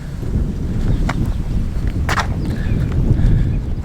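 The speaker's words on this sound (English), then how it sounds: "the weather today is absolutely gorgeous. Just a little bit windy." Steady outdoor wind rushes and buffets the microphone throughout, a continuous low roar with faint rustling on a gorgeous, slightly windy day.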